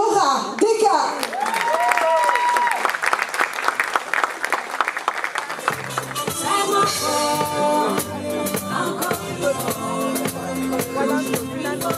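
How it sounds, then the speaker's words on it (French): Audience applause for the performer Dora Decca at a Christmas charity event, a dense, loud burst of clapping from a crowd with children's voices and cheering mixed in, swelling and continuing for several seconds. "Et je vous prie d'applaudir, mesdames, messieurs, Dora Deka."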